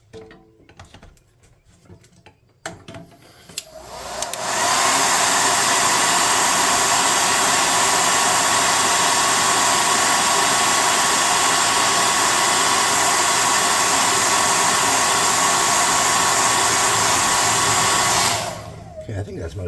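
A hair dryer blowing to dry ivory paint on a tabletop model meat stand, switching on after a few quiet handling sounds and roaring loud and steady for about fourteen seconds before cutting off.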